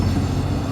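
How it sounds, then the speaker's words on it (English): A freight or passenger train rumbles past a rider stopped on a 2019 Honda CB300R motorcycle: steady, close, low-heavy rolling noise with no talk over it. "And I've got to stop for a train."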